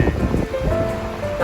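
Sea waves washing onto a Jeju beach, a rushing surf swell with gusty wind noise on the microphone, close and fairly loud, with voices talking over it.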